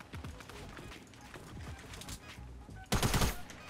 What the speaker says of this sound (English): this kid's got like a freaking machine gun or some crap